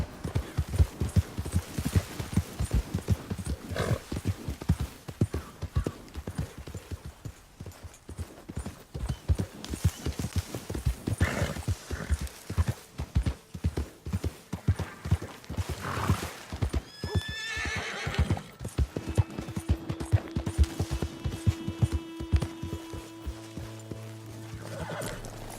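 A horse in Red Dead Redemption 2 gallops with rapid, rhythmic hoofbeats close by, whinnying and neighing several times over the steady clip-clop.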